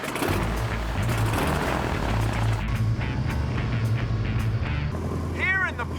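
A constant, loud roar of an airplane in flight fills the cabin, steady engine and air noise without a break.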